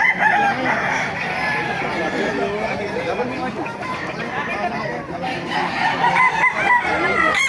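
Roosters crow amid clucking chickens and crowd chatter at a busy early-morning poultry market in Baliuag. The din is steady and dense, with fowl calls layered over people talking throughout.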